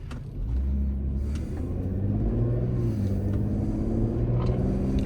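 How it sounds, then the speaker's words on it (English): A 2009 Porsche Cayenne's exhaust and intake hum low and smooth from inside the cabin while driving, a steady engine rumble with gentle rises in pitch as it accelerates. "The only thing you can hear is a slight exhaust noise and the intake."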